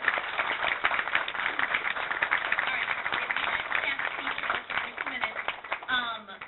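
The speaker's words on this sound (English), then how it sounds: "let's give them a round of applause" A school board meeting audience applauds a group of students, a steady patter of clapping throughout with voices and chatter mixed in; the clapping thins toward the end as a voice begins to speak.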